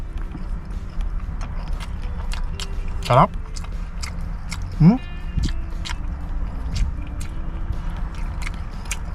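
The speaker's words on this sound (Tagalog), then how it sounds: "Yung maingay kumain." Loud, wet chewing and crunching with sharp clicks, mixed with a couple of rising vocal sounds and low background noise.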